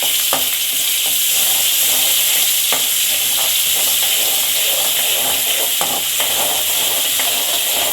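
Ginger garlic paste sautés in hot oil for Hogenakkal-style fish curry, a loud close continuous sizzle and hiss with occasional scraping stirs and no talk.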